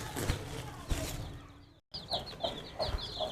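A hungry hen clucks in short, repeated bursts nearby, with rustling and handling noise in the background and a brief dropout partway through.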